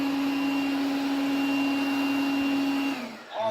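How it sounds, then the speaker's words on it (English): A robot vacuum cleaner runs with a steady, loud whine and motor hum that holds evenly, then winds down and cuts off near the end. "So now I was trying the manual operation of the vacuum cleaner."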